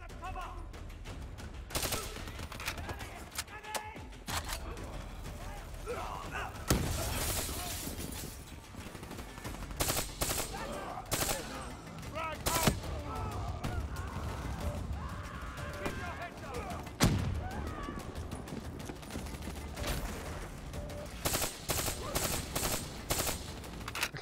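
Rapid bursts of automatic gunfire and scattered shots from Call of Duty: Black Ops 3, repeated throughout amid game effects, with a voice talking intermittently over the action.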